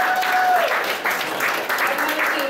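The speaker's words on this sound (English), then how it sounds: "let's give a round of applause, guys" A crowd at an anime convention game show claps loudly and continuously for a couple of seconds, with voices mixed into the applause.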